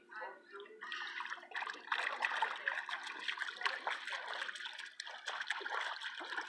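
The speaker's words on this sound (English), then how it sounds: "Splash, splash, splash." A small child splashes in cold pool water, making a steady run of close, light splatters and trickles that continue throughout, with voices speaking alongside.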